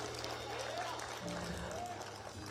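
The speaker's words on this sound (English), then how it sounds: "Give yourselves a round of applause" An audience at a Saturday morning forum gives a faint, steady round of applause, a soft continuous patter of many hands heard from a distance.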